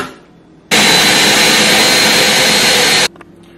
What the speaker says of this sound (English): now I put this in the blender, so I'm gonna blend this